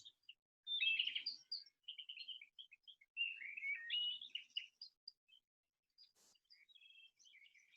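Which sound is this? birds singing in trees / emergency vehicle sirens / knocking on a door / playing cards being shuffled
birds singing in trees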